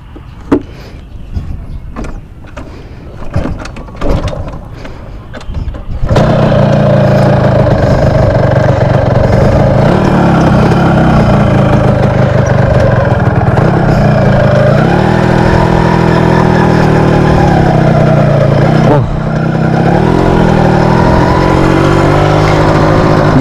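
A Yamaha RZR motorcycle engine runs loud and close, with a rough, steady drone that rises and falls as the throttle changes, after a few seconds of quieter handling noises at the start.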